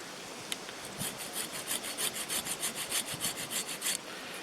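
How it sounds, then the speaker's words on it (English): Hand saw cutting a shallow notch into wood for a campfire pot hanger, about a dozen quick rhythmic rasping strokes up close, then it stops; no talk. "I've just got the saw at hand here."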